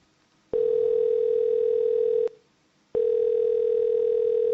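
A telephone dial tone sounds loud and steady after a call is hung up, breaking off once for about half a second and then resuming, with no voices over it.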